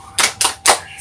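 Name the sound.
children doing the tepuk semangat rhythmic clap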